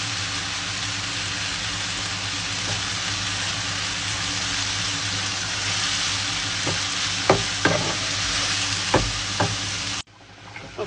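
Pasta sauce ingredients being stirred in a pan on the stove, with a steady sizzle throughout and a few sharp utensil scrapes and clicks toward the end before the sound cuts off.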